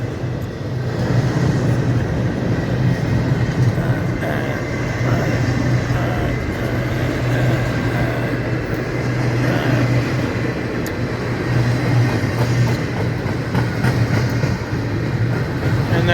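Long freight train loaded with double-stacked containers in well cars rolls steadily past at close range, a continuous loud rumble with faint rhythmic clatter from the wheels, no voices.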